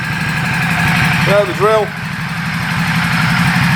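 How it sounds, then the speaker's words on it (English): A Ducati Multistrada 1200 motorcycle with stock exhaust idles just after a cold start, a steady, loud, close engine rumble running throughout while someone speaks briefly over it. "Ducati's always sounding good, even standard."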